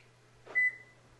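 A Toyota Tacoma answers an aftermarket remote key fob with a single short, clear beep as the doors lock. It follows a soft thud, and the setting is otherwise quiet.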